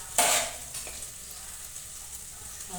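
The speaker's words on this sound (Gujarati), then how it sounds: "ટમેટા સસરાઈ ગયા છે અને આપણે તેમાં નાખશું સૂકા મસાલા" Tomatoes sautéing in a pan give a steady sizzle as dry spices are tipped in, starting with a brief loud burst of hissing and rattle, then a quieter continuous fry with an occasional utensil tap.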